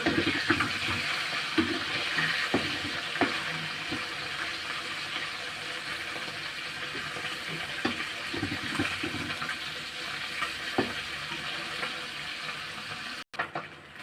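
Puti fish fry in hot oil while being turned in the pan, giving a continuous hissing sizzle with scattered small pops and clicks, steady and fairly close.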